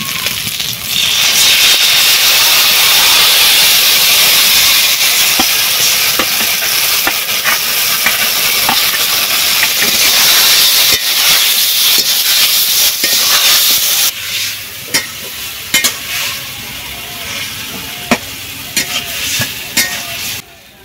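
Loud, steady sizzling and hissing as ground green tomato paste hits fried shrimp in a hot pan, with stirring scrapes throughout and a slightly quieter stretch near the end.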